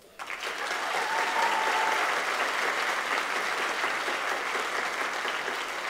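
Audience applause for an award at a high school choir finale: a sustained burst of clapping from a large indoor crowd, starting abruptly and holding steady and loud throughout.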